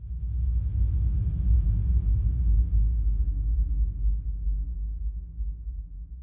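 A deep, low rumbling ambient drone made in Ableton Live, with a washed-out reverberant tail, steady and fairly loud throughout, its upper shimmer fading away after a few seconds.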